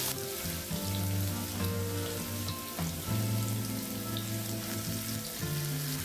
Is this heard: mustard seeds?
yes